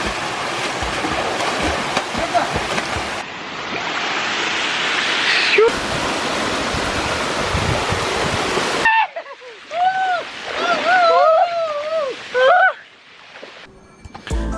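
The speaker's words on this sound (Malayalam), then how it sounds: "വെള്ളച്ചാട്ടത്തിൻ്റെ അല്ലെങ്കിൽ ഒരു അരുവിയുടെ അടുത്തേക്ക് എത്തിയിട്ടുണ്ട്." Rushing water at a waterfall and stream in Parumthumpara, a broad continuous roar that shifts in character between segments, with bird calls or other tonal chirps over the flow in the latter part.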